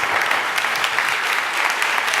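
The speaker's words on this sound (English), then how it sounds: "Please give him a great big round of applause." Audience applause fills the room in a steady, dense burst of clapping, loud and even throughout with no voices on top.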